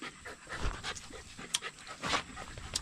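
A dog pants rapidly and close by outdoors near a mango tree, its quick breaths in and out forming a steady rhythm with some faint shuffling.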